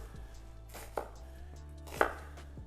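A knife cuts through an onion on a cutting board with two distinct chopping thuds a second apart, crisp and close against a quiet kitchen background.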